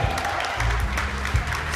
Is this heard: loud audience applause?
yes